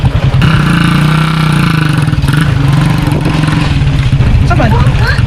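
A nearby motorcycle engine running with a rough, pulsing idle that rises and holds, loud and close, with people talking over it.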